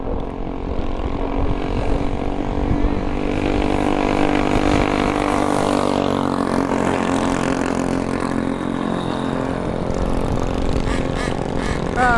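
Two motorcycles pass at a distance, a steady droning engine whine that swells and fades over an outdoor background with no talking.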